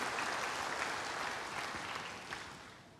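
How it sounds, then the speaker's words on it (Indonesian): Church congregation applause, a full sustained wash of clapping that slowly tapers in loudness over a few seconds. "Berikan tepuk tangan yang hebat bagi dia."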